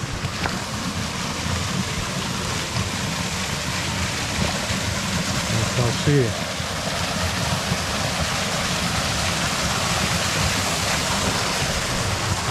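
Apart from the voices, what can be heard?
waterfall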